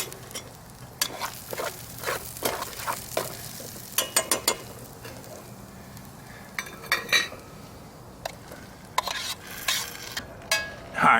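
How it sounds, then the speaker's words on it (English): A spoon scrapes and clinks around a camp pan while mac and cheese with Spam is stirred, giving irregular scraping strokes over a low sizzle, close and fairly clear. "we're going to mix it and eat out of that pan"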